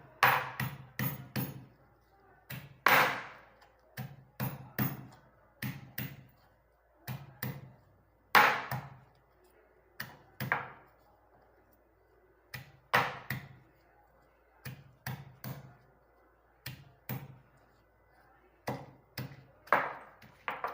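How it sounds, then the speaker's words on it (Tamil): About ten garlic cloves are pounded in a stone mortar with loud, close, dull thuds. The strikes come in uneven clusters of two or three with short pauses between them. "இப்போ இதில் உரலில் போட்டு நல்லா தட்டிக்கோங்க."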